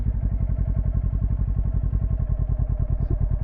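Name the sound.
motorcycle riding a slow clutch-controlled turn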